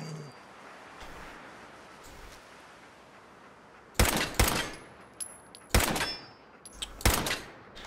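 Gunfire in Fallout 4: after a quiet stretch, several loud, close bursts of rapid shots arrive in separate volleys, each cutting off abruptly.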